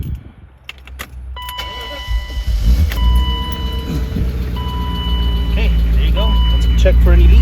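A BMW E34 engine cranks and catches after a fuel filter replacement, settling into a rising, steady idle, with keys jangling and a voice speaking at the start.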